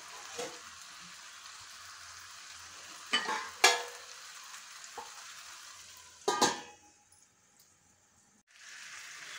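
Fish pieces frying in a pan, a soft sizzle with a few louder bursts of spatter and stirring, then near quiet before the hiss returns.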